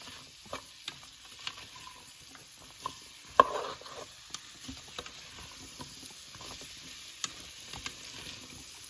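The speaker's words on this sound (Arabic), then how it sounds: "انا حطيت الدقيق حنحمصه معاها وبعدين نصب الميه" Flour toasting in a pot with potatoes and carrots for a cream-free soup, a faint dry sizzle with scattered soft scrapes and stirring ticks, quiet and close with no voices.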